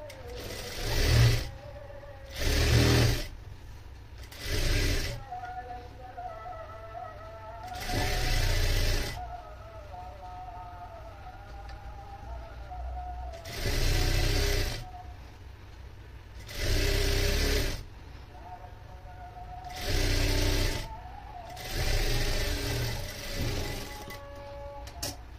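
A sewing machine stitches a double line on an anarkali frock in repeated short bursts of whirring motor, each lasting about a second or two. Quiet pauses separate the bursts, and no one talks.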